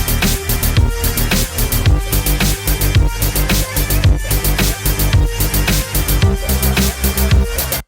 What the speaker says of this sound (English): This new bass line.